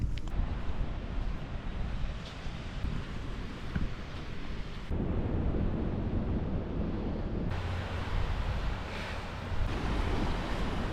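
Atlantic Ocean surf breaks on the shore in a steady, loud wash of crashing and rushing water, mixed with buffeting wind noise on the microphone, no one speaking.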